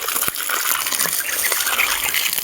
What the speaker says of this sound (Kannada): ಗಾಯ್ಸ್ ಈಗ ಬಾಳೆಗೊನೆ ನೀರು ಬಿಡಾತ್ತೀವಿ ನಾವು